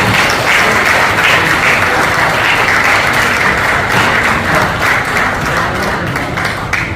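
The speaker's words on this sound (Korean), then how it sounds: "뜨거운 박수 보내주시기 바랍니다." Loud, sustained applause from a large crowd at a retirement ceremony for racehorse trainers, dense and steady throughout, tapering only slightly toward the end.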